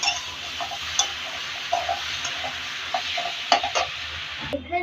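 Boiled moong dal is stirred into a frying vegetable dish in a pan, with a soft continuous sizzle under scattered scraping and ticking utensil clicks, close up and no voices.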